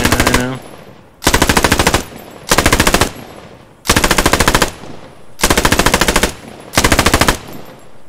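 Automatic gunfire in a Post Scriptum battle for Arnhem: six loud, sustained machine-gun bursts, each lasting roughly half a second to a second, separated by short pauses and a steady background of distant battlefield noise.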